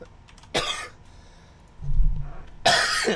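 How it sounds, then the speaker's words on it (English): Two separate harsh coughs, about two seconds apart, with a brief low rumble between them; fairly close and loud against a quiet background. "I can't stop coughing."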